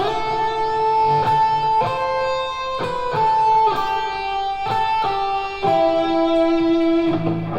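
Distorted electric guitar playing a section of Silent Night, sustained gritty notes with slides between pitches, moving in a slow stepwise melody, loud and close with a steady hum underneath.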